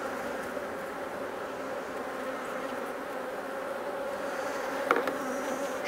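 Honey bees hum in a dense, steady drone around an open hive being inspected in summer, with a faint clunk from handling near the end.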